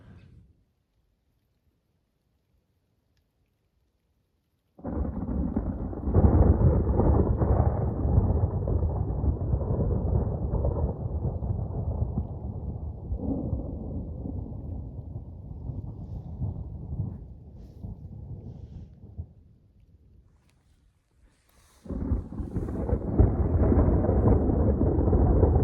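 A thunderstorm brings a sudden loud roar of thunder and heavy rain that rumbles on for many seconds, fades, then swells again; no voices are heard.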